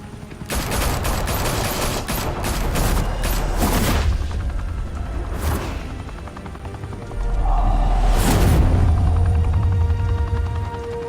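Intense gunfire in Batman: The Telltale Series, with a rapid burst of overlapping shots at first, then scattered louder blasts, booms and a rising mechanical roar underneath.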